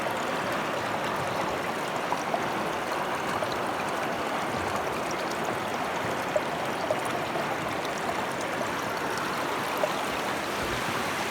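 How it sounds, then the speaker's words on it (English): Water rushes steadily through a gold prospecting sluice as it is cleaned out outdoors in Australia, a continuous close-up stream-like wash with no talking. "Oh mate's just cleaning up his sluice now."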